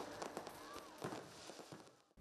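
Fireworks burst at a spring festival at Ba Den Mountain in Tay Ninh, a rapid series of cracks and pops with a whistling rise, mid-distance and moderately loud.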